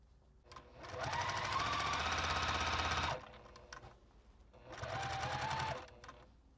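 Sewing machine back stitching on a quilt: two close, steady runs of rapid mechanical whirring, the first about two and a half seconds and the second shorter, separated by a quiet pause.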